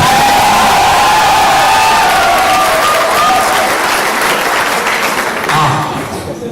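A large audience at a live marketing event erupts in loud, sustained applause mixed with cheering and whoops, close and dense throughout, easing slightly toward the end.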